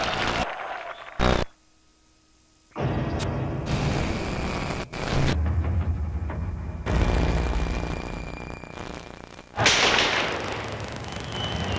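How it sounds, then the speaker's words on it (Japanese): Gunfire in Moscow on the night of the 1991 Soviet coup, with sharp cracking shots and bursts against a loud, shifting din of crowd and street noise, broken by a short near-silent gap. "最初の銃声は戦車から撃たれたものではなかったという"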